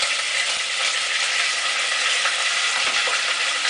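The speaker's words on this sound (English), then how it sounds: "we're going to use the oil that we just rendered from the coconut milk to saute our curry paste" Green curry paste sizzles and spatters in hot rendered coconut oil as it is stirred and broken up in a pan, a steady, loud frying hiss with no talking.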